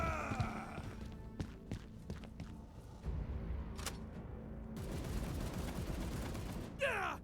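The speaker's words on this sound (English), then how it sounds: "And someone just shooting said guardsman." Gunfire crackles in the turn-based game Warhammer 40,000: Chaos Gate - Daemonhunters, with sharp separate shots early on and then a denser burst, over a busy battle ambience.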